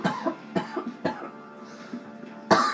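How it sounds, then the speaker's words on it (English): Several close, harsh coughs in a short run, followed by a final louder cough, heard alone without talk. "I'm just coughing my lungs."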